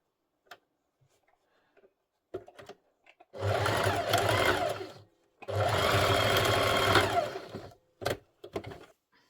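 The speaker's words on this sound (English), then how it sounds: "Then that goes underneath the sewing machine." A sewing machine sewing jetted pockets runs in two short bursts of rapid stitching, separated by a pause, with soft clicks and handling noises around them.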